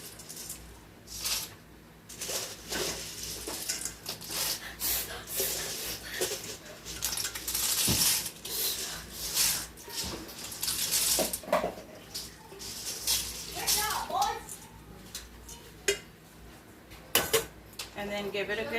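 Pasta is scooped into a pot of boiling water on a stove, with repeated metallic clinks and clatter of utensil against pot over a bubbling, watery background.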